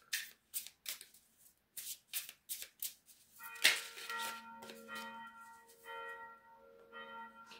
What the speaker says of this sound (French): dans tous les petits villages, il y a les églises qui sonnent les cloches encore.